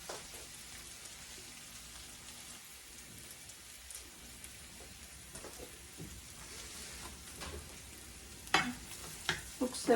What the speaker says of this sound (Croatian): Nek se luk još malo prži